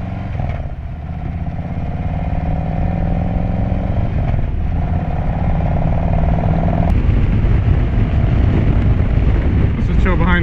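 A 2020 Harley-Davidson Road Glide with a Stage 1 upgrade, its V-twin engine rumbling loud and steady at close range, rising slightly, under wind buffeting and someone talking over it.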